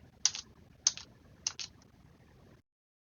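Three short bursts of computer keyboard key presses, each a quick double click, sound close and clear against a quiet hum during gameplay.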